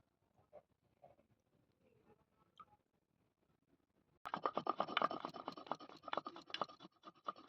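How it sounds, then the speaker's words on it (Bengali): Poppy seeds with green chillies and ginger are ground by hand, starting with faint scattered scrapes before a sudden burst of loud, dense, rhythmic grinding and scratching up close. "তো এদিকে দেখতে পাচ্ছেন আমি পোস্ত বাটছি"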